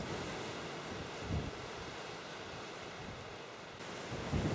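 Sea waves surge and wash against the rocky coast at North Stack, Anglesey, a steady broadband roar with wind buffeting the microphone and a couple of heavier swells breaking closer in.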